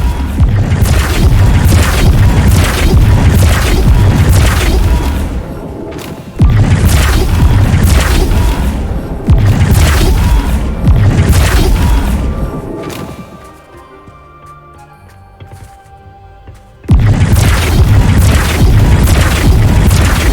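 Spell effects from the Hogwarts Legacy video game, including Bombarda, Confringo and Flipendo, land as loud, booming blasts and crashes in dense bursts, then drop to a quieter lull before another heavy burst.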